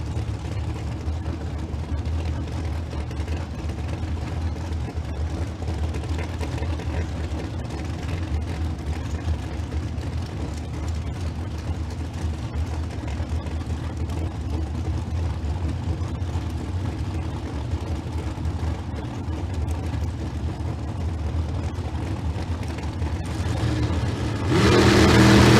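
Dragsters at a bracket race at Famoso Dragstrip, including a Shorty Dragster, make a steady, loud engine roar throughout that swells sharply near the end, with a voice talking over it.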